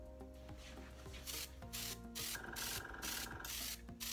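A Badger airbrush spraying Unicorn Spit paint from a compressor set to about 20 psi: a series of soft, rhythmic bursts of airy hiss over a steady mechanical hum, quiet and close.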